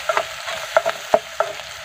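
Onions sizzle steadily in hot oil in a pan while a utensil scrapes and stirs them in quick, irregular strokes, close and fairly loud, with no voices.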